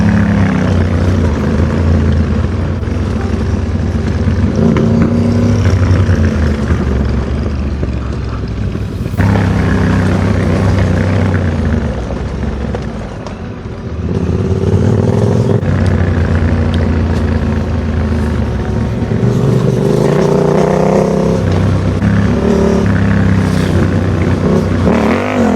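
Car driving on a dirt track along the Costa Brava with a sea view, its engine droning loudly and steadily throughout with shifting revs and rough rumble, briefly easing in the middle before building again.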